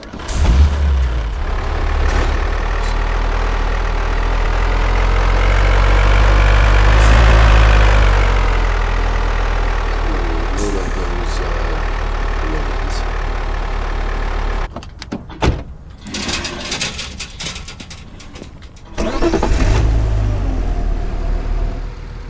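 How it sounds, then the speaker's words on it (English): A truck in the driving game Car Dealer Simulator rumbles with a loud, low engine drone that swells and fades, followed by a burst of sharp mechanical clatter and clunks before the engine hum returns near the end. "Grab the truck. I'll bring the trailer around."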